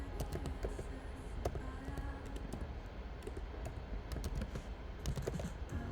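Clicky typing on a computer keyboard, probably while switching to a French layout, with steady bursts of keystrokes close up over a faint background hum.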